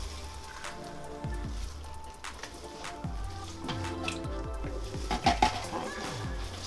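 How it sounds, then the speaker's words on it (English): Chopped plum tomato goes into a hot pot for Nigerian jollof rice, giving a soft crackling sizzle under repeated clinks and scrapes of a spoon stirring against the metal pot. "Just putting the tomato in now."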